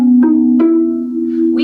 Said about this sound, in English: We call that the xylophone effect